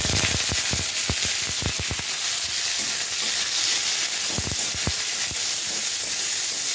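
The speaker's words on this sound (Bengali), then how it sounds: "ডাঁটাটা তো বেশি ভাজতে লাগবে না, অল্প করে একটু নেড়ে নিলাম।" Raw vegetable stalks are fried in a spice tempering, a loud close sizzle with bursts of sharp scraping as a spatula stirs the pan, the clatter coming in quick clusters between steadier hissing.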